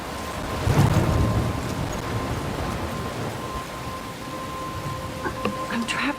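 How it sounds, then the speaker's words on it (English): A thunderstorm in the video game Life is Strange Remastered, with a steady wash of rain and wind and a low rumbling swell early on, heard close and continuous for several seconds. "I'm trapped in a storm?"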